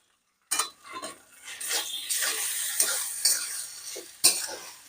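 Poha being stirred and tossed in a pan over a full gas flame with onions and coriander, a run of scraping and clinking spoon-on-metal sounds with uneven strokes and a sharp knock near the end, close up, no talking.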